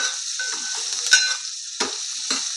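Bottle gourd pieces fry in oil over a low flame with a steady, gentle sizzling hiss. Occasional faint clicks and stirring sounds break through, and no one speaks.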